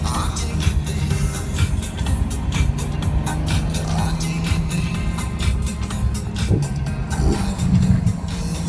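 A Ferrari 599 GTO engine roars loudly and continuously close by, a dense, steady exhaust drone without clear breaks, and a voice may sound faintly beneath it.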